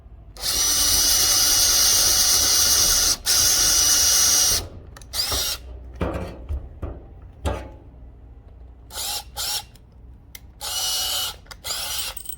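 A power drill bores out rivets on a 12-foot jon boat push pole, a loud sustained whine followed by shorter bursts and clunks of handling between runs.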